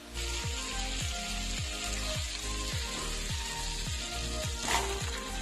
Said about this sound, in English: we are going to put our butter into our hot casserole